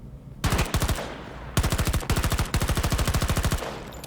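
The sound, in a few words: machine gun fire in the video game Battlefield 2042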